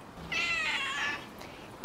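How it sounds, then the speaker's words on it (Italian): A pet cat gives one drawn-out, moderately loud meow up close, with a faint noisy background. A brief sharp sound follows at the end. "tu sei il gatto corvo, gracchi invece di miagolare"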